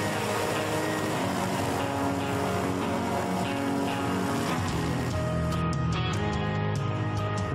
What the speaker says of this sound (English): The machine itself is an air rider hovercraft.